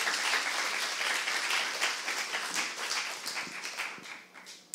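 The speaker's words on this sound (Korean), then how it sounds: "박수 한번 더 주세요." A church congregation at a Saturday worship service breaks into sustained applause, a dense, steady roar of many hands clapping that slowly thins toward the end.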